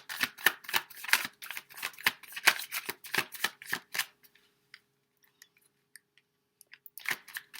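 Tarot cards are riffled and shuffled in quick, crisp bursts for about four seconds, then a few scattered soft taps and a brief final flurry of shuffling, close and fairly quiet with no talking.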